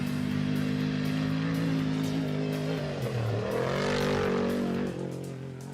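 A roaring engine of a 2017-spec off-road race truck swells as it passes close by during a desert rally race, pitch dropping, then fades away into the distance.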